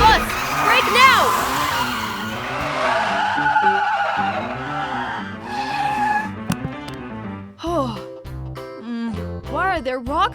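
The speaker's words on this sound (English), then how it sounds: "Bus, brake now!" A cartoon bus brakes hard near a cliff, its tires skidding with drawn-out squeals amid music and sound effects, while character voices talk over it.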